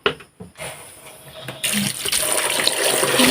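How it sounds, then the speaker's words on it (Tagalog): Salt water gushing and splashing from a container over freshly cooked fish from a net catch, starting softly with a few drips and then swelling into a loud, steady pour. "Lagyan ng tubig alat."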